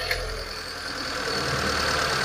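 A 2006 Mitsubishi engine with a waste spark ignition and random misfire runs with a steady hum that rises slightly and slowly over a couple of seconds, close and even.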